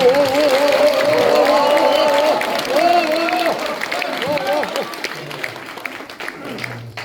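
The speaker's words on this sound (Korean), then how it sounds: "박형준 시장님 박수로 부탁드리도록 하겠습니다" Applause greets the Busan mayor at a public debate forum, crowd clapping strong at first and gradually thinning, with a voice speaking over it.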